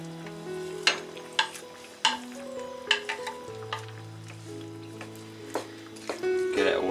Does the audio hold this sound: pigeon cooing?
no